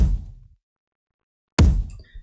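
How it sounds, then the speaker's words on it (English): Two booming electronic kick drum hits from a melodic bass production, each a deep punchy thump that fades out, separated by about a second of total silence. "So I added a kick,"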